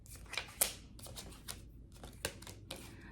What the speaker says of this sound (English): let's flip up your cards and see what the heck's going on for you for your pre-shuffle